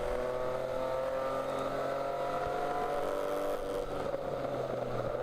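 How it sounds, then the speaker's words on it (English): Race car braking hard down into turn 7 at Watkins Glen during a ChampCar endurance race, a steady engine drone with falling tones as it slows, fairly distant and continuous. "Braking hard down into what looks like turn 7"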